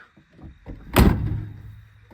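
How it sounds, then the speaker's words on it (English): A Ford OBS pickup truck door on a 74K-mile PowerStroke slams shut in one loud, solid metallic thunk, preceded by faint handling noises and followed by a short fading rumble. "Gotta shut those first gen or OBS doors a little bit harder."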